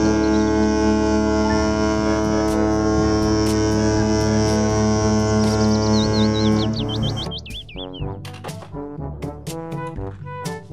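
A cruise ship's deep, sustained horn-like drone with steady harmonic hum, loud and continuous for about seven seconds, joined near the end by warbling chirps before giving way to a bright musical passage.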